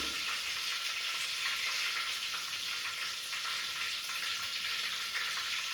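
Tomato gojju with garlic cooks in a pan, giving a steady, dense sizzle and bubbling that fills the whole stretch without pause, close and even in level, with no voices.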